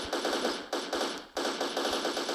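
Sustained machine gun bursts in the online shooter Special Force 2, rapid loud rattling fire in three back-to-back strings with short gaps between them.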